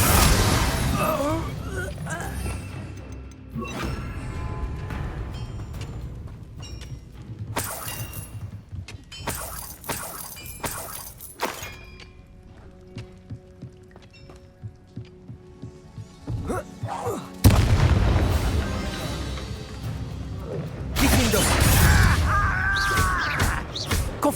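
Confringo explosion spell cast in the video game Hogwarts Legacy, several loud bursts and crackling blasts with shattering debris, punctuated by quieter stretches of game ambience and with speech throughout.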